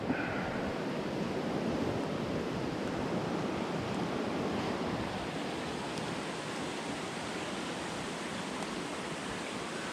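Creek water flowing steadily through a Siskiyou forest, a continuous broadband rush of moderate loudness that stays even throughout with no voices.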